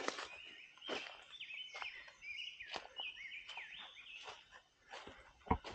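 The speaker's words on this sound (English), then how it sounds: "Is that a warbler that we're hearing behind us?" Birdsong in the Bald Eagle State Forest, with a warbler-like singer giving repeated bright chirps and short trilled phrases at moderate distance, joined by scattered clicks and light footsteps on the trail.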